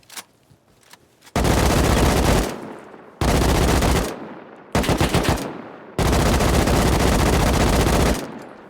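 An AK rifle fires in a video game in four loud, sustained automatic bursts, each a dense roar of rapid shots, separated by short gaps with fading echo tails.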